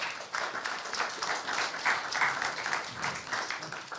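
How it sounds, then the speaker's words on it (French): Moderate crowd applause at a French transport and logistics conference as speakers join the stage, continuous clapping in a fairly quiet hall with no voices over it. "On les applaudit."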